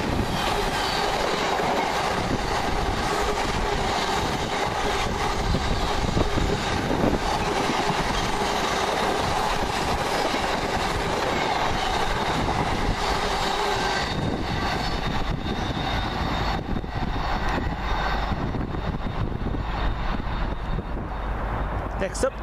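Freight train 66132 rumbles past at Kings Langley with steady clattering wheels and some squeal, loud and sustained, then thinning out toward the end.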